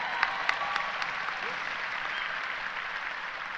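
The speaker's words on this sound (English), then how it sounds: "You can clap for them." An audience claps steadily for graduates at an arts school ceremony, a dense, even wash of applause heard from a slight distance, with a few sharper claps near the start.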